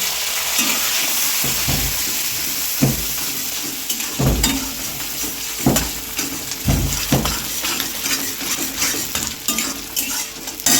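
Capsicum and chilli stirred into leftover fish-frying oil for a fish manchurian, giving a steady close sizzle broken by repeated scrapes and knocks of a spatula against the pan.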